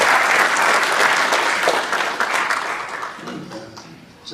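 An audience at a lecture breaks into sustained applause to welcome the speaker, a dense roomful of clapping that is loud at first and gradually thins and fades out.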